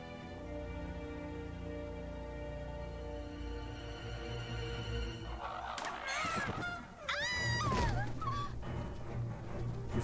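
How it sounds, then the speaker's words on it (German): Crows cawing in the Grim Fandango video game, a cluster of harsh, honking calls bursting in over a droning musical background after several seconds. "Wie viele von diesen verdammten Krähen hat er denn?"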